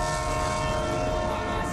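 A train horn blares in a steady, loud sustained tone over rumbling rail noise, continuous throughout the short burst.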